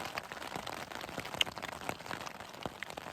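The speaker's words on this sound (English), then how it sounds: "But it's raining, it stops." Rain falls during a stormy camping trip, with light scattered drops ticking and pattering irregularly on a nearby surface over a soft background hiss.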